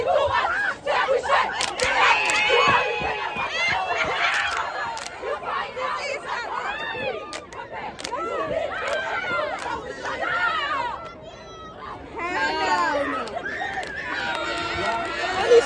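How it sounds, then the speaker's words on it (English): Crowd at a cheer battle, with excited shouting, yelling and overlapping chatter from many voices near and around, rising and falling in loud bursts throughout. "Our coach stopped us in the middle of a cheer battle."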